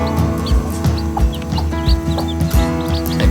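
Free-range village chickens kept at a home in Bogor cluck and squawk close by in a busy, overlapping chorus, with repeated short calls and fluttering over a low background hum.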